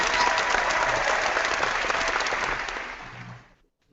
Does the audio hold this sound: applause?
yes